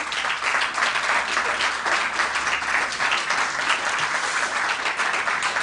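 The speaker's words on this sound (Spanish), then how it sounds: "os voy a pedir que le demos un fuerte aplauso como ejemplo" Applause from the audience at a Galician health service presentation on circular economy strategy, a full, even round of clapping in a hall that holds steady throughout.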